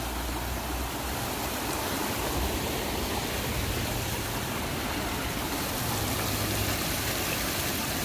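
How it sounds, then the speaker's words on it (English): A waterfall near a lakeside spot gives a dense, steady rushing roar that holds evenly throughout with no voices. "We got a waterfall."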